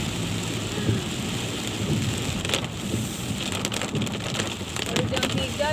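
Heavy rain pours down steadily in a dense, close wash with a low rumble beneath, while a person speaks over it.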